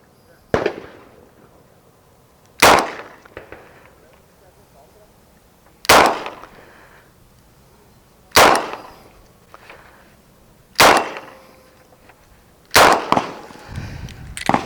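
Six loud, close shots from a Smith and Wesson 638 revolver fired double action at a range, spaced a couple of seconds apart with ringing tails and faint background noise between them.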